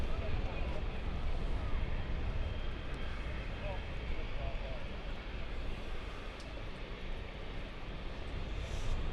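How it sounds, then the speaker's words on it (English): An aircraft at London City Airport produces a steady, distant broadband engine roar mixed with wind noise, holding fairly constant throughout with a low rumble underneath. "Another aircraft inbound as well."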